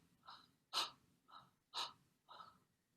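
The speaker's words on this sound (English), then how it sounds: "But if they take a calm throated breath," Calm breaths drawn through a relaxed throat, heard as several soft, airy inhalations spaced roughly half a second apart, alternating stronger and lighter, close and quiet with no talk.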